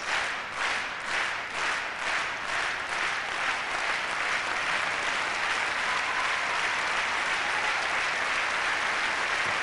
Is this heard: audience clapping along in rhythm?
yes